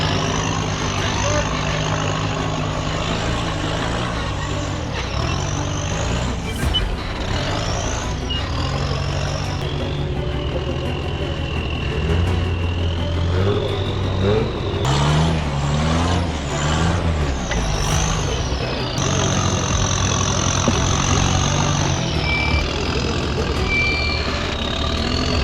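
A rock crawler's engine at the W.E. Rock extreme crawling competition in Bagdad, Arizona. It drones loudly and keeps revving up and down as the rig climbs, with voices talking over the engine noise.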